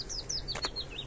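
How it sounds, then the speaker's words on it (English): Small tits chirp and whistle in short, high phrases, several calls in quick succession against a steady low outdoor rumble. "Love to hear all the wee birds."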